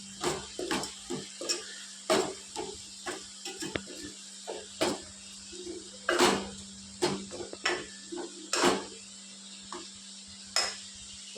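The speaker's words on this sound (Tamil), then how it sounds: "ரவுண்டு சிக்கன் ஃப்ரை பண்ணி எடுத்துட்டேன் அடுத்த ரவுண்டு போட்டிருக்கேன்" Chicken pieces frying in a pan for a home-cooked curry, giving a steady soft sizzle broken by repeated sharp clinks and scrapes of a utensil stirring against the pan, moderately close, with no talking.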